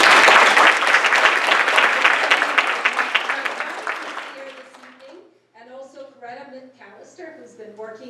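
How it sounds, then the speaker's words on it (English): Applause from an audience at a philanthropy event, loud and dense at first, then fading out around the five-second mark before a speaker begins talking. "We have a big round of applause."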